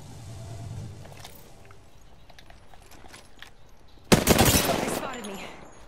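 Gunfire in the Apex Legends battle royale erupts as a sudden loud, dense burst of shots near the end, following quieter ambient game sounds and scattered distant noises.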